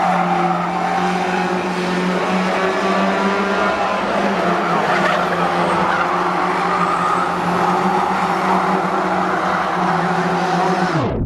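Race cars roar around the oval at Cowdenbeath Racewall, with engines drone and tyres skidding continuously up close, loud and steady through to a sudden cut-off at the end.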